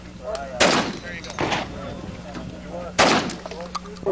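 Rifle shots fired at a shooting range, three sharp broadband cracks spaced about a second apart, the first and last loudest, with quiet talk and a steady hum between them.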